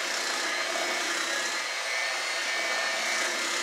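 An electric mixer whirs steadily and loudly as it blends ingredients in a mixing bowl, a constant motor drone with no pauses.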